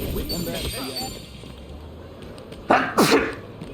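Two sharp sneezes in quick succession, close and loud, following a stretch of quiet talk.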